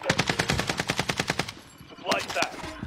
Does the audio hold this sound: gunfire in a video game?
yes